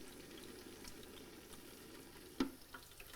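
Spring rolls deep frying in a hot fryer give a faint, steady crackling sizzle, broken by one brief sharp pop or clatter near the end, with no one talking.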